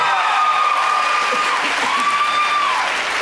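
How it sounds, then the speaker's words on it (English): An audience aboard a cruise ship applauds and cheers for the winning couple of a newlywed game show, with steady clapping beneath a sustained whistle and scattered crowd voices. "Give this couple a big round of applause."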